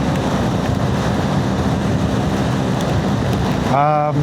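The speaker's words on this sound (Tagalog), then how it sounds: "Grabe yung ulan, no? Kakaiba din, walang tigil." Heavy rain roars in a steady wash against a rumbling motorcycle engine and wind buffeting during a ride in Turkey, loud and close, with a brief tonal warble at the end.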